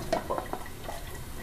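Excess oil tipped out of a pan after frying a Thai omelette, a few quick close liquid drips and splashes, then a faint trickle, no voices.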